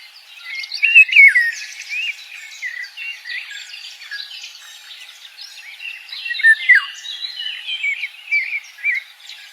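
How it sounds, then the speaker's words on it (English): Eurasian golden oriole singing rich, fluting phrases, with bright whistled notes rising and falling in irregular bursts, clear and fairly close against a quiet background with no other sounds. "The Eurasian golden oriole sings like a bird that belongs to summer itself."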